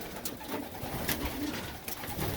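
Pigeons coo steadily and close by in a roost, layered with soft rustling and wing flutter, with no voices.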